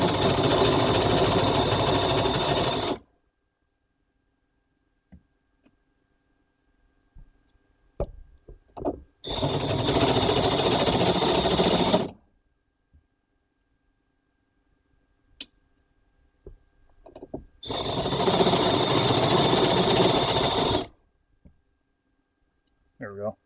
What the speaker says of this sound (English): I'm being really cautious with this other unibit because this one isn't the cheapy one that comes with the kit